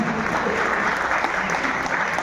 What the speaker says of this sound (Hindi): मैं चाहता हूँ उन महान शख्सियत के लिए जोरदार तालियां